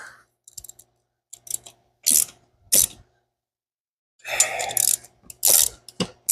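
A torque wrench with a socket on a fork nut during fork assembly on a Yamaha IT175 and YZ125, several bursts of rapid ratcheting clicks separated by silent pauses, close and crisp.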